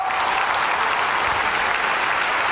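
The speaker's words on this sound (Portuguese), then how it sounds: "Pode aplaudir ao Senhor." A church congregation claps together in steady, dense applause that fills the space evenly from start to finish, loud and unbroken, with no voices rising above it.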